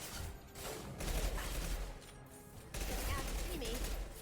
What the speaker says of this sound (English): I'm using the shotgun again.